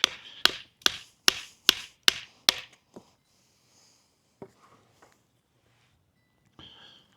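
A Worktuffgear Nomad bushcraft camp knife with a Scandi grind chops into a knotty wooden stump: seven loud, evenly spaced, close thwacks, followed by a few lighter taps and then near silence.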